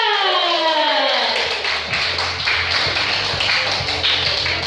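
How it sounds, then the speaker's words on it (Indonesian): Audience applause in a seminar hall after a speaker is introduced, a dense, loud wash of many hands clapping that swells in quickly and holds steady. "Kita tepuk tangan luar biasa untuk Bapak Jani Jati Jakarta"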